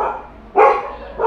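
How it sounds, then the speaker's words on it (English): Two sharp, fairly loud dog barks ring out during Songkran festivities in Phuket, one midway and a second near the end, with no voices over them. "What are they barking at?"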